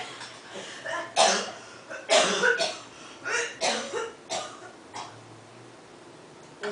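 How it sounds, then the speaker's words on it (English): A smoker's hacking cough repeats in a series of harsh bursts, about eight or nine close, raspy coughs spaced irregularly, heard nearby and alone. "That's a cigarette cough."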